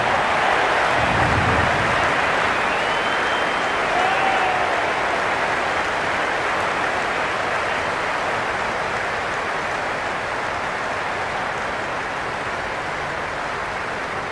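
Cricket crowd at an India vs Pakistan T20 World Cup match in Cricket 26, heard before play begins: a dense, loud, steady roar of cheering and clapping that barely varies throughout.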